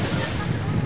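Ocean waves wash on a beach in a continuous, loud broadband rush of surf mixed with wind buffeting the microphone, with no break across the short stretch.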